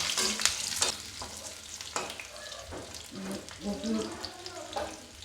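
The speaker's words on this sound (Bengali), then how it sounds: "চলো এবার আলুটা দিয়ে নিই। ওরে বাবা, ছিটকানোরই ভয় লাগে জানো তো" Potatoes dropped into hot oil in a home kitchen fry with bursts of sizzling and spattering, loud at first then settling into steady crackle, with someone talking over the cooking.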